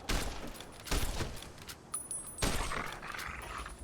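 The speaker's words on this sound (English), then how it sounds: "Oh, they're still shooting at him." Gunfire in the video game Fallout: New Vegas: several sharp, fairly loud shots land in a cluster at the start, followed by further bursts and scattered cracks over a steady background din.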